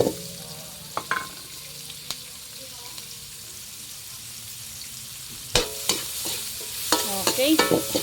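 Onion and garlic sautéing in a hot pan, a quiet background sizzle broken by sporadic spatula scrapes and clacks that grow busier and louder toward the end.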